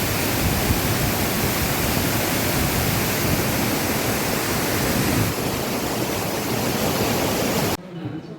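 Rock Garden waterfall in Darjeeling roars as a dense, steady rush of falling water, loud and close throughout before dropping off abruptly near the end.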